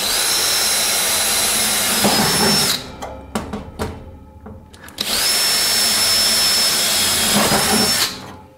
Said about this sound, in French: Allez, c'est parti, on perce.